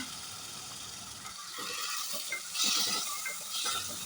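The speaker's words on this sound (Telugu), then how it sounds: "ఇవి కూడా ఈ నూనెలోనే బాగా వేగాలన్నమాట ఆయిల్లో బాగా వేయించుకోవాలి" Prawns fry in oil in a pan for a prawn curry, giving a steady close sizzle with soft stirring scrapes that swell briefly louder.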